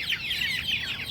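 Country chickens at roosting time keep up a steady, busy chorus of overlapping high clucks and chirps. It is fairly close and continuous, with no speech.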